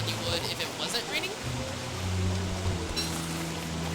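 Steady rain hisses in the video game Don't Starve, a continuous wash of falling water. Someone speaks over it throughout.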